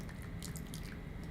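Water drips and spatters softly as potted seedlings are watered, a few faint, quick drops in a quiet indoor setting with no talking.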